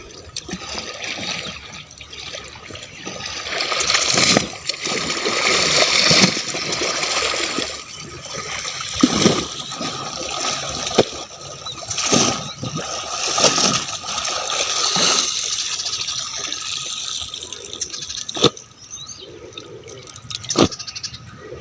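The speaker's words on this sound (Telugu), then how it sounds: "పిండడం అయిపోయింది" Water splashes and trickles as clothes are wrung out by hand beside a canal, with repeated bursts of pouring and dripping at a steady close level and no talk.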